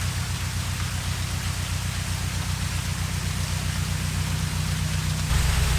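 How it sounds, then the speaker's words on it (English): Steady rain drums on a canal boat during a final day of cruising near a lock, a dense, even hiss that swells slightly louder near the end, with no voices. "of course the rain's just started again"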